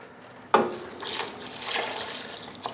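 Bourbon poured into BBQ sauce, a cup and a half of liquid, gives a short splashy, trickling pour with a sharp onset, then soft liquid sounds running for a couple of seconds, fairly close and moderately quiet.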